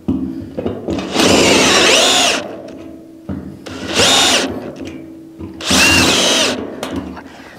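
A power drill revs loudly in three separate bursts, each lasting about a second, with brief pauses between them, while a hole is bored during the build of a pig roaster fitted with a spit and motor.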